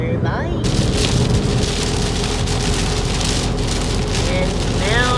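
Heavy rain drums steadily on a car driving along a road in Baton Rouge, Louisiana. The roof patter is loud and constant, with road and engine rumble underneath, and a voice speaks briefly at the start.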